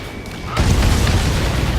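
A target blows up in the flight combat game Ace Combat 7, a deep rumbling blast rising suddenly out of lighter background noise and sustaining to the end.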